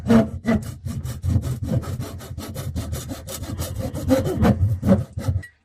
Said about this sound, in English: you just want to kind of cut it so it bevels that edge